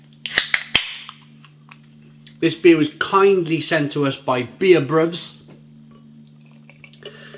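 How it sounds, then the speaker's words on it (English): A Workhorse Guava Gose beer being opened, with a sharp hiss and a couple of crisp clicks right at the start, followed by someone speaking close over a low hum. "let's get this beer out into a glass and see what we get"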